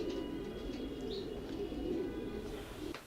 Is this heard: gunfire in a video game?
no